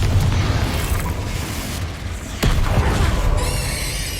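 A Confringo spell in Hogwarts Legacy lets off a loud, rumbling magical blast amid steady game noise, with a second sharp burst partway through and a shimmering tone near the end.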